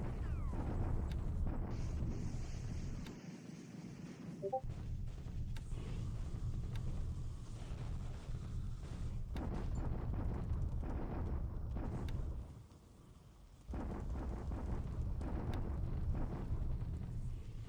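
Bombardment explosions in the War in the Pacific strategy video game roll as deep, rumbling booms over a constant windy roar, heavy and sustained, with a brief dip near the end and no talk.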